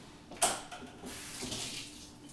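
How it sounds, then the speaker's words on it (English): Tap water runs steadily over a handful of fresh basil leaves being rinsed in a kitchen sink, a soft continuous splash that begins with a brief louder gush, with no talking. "we're just going to run them quickly underneath the faucet"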